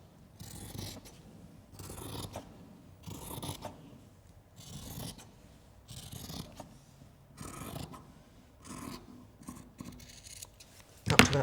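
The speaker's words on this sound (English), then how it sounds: "You can do it quite easily with scissors." Scissors cut through soft jersey fabric close up in a steady rhythm of soft crunching snips, roughly nine even strokes, ending with a brief sharper clatter.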